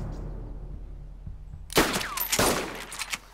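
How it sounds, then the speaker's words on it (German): Gunfire in the video game DayZ Standalone: after a quiet stretch with low background hum, a burst of loud, close gunshots erupts with several sharp cracks and a ringing tail. "Schüsse."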